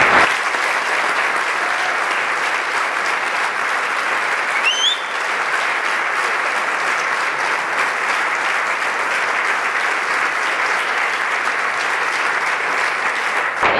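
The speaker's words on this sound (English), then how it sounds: "So let's give Tim a round of applause." Audience at a United Way campaign event applauding for Tim, a loud, sustained wash of many hands clapping that stays steady throughout with no break.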